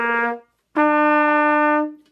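A trumpet plays a short low C, breaks off, then a brighter sustained note rings out on the first two valves and lands on E instead of the intended A, clear and solo.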